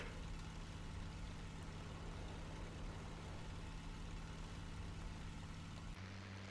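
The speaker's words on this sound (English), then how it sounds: "You know what I don't like about this Mustang? The way the engine sounds." P-51 Mustang piston engine inside the IL-2 Sturmovik flight sim, a steady low droning hum held at even loudness throughout, with a slight shift in tone near the end.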